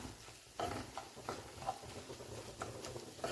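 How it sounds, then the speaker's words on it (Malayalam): Curry with garam masala, curry masala, pepper powder, green chillies and curry leaves stirred in a pan, giving soft repeated scraping and patter strokes with a faint sizzle, close and fairly quiet, no talking. "ഇതെല്ലാം കൂടി ഇങ്ങനെ ഇളക്കണം"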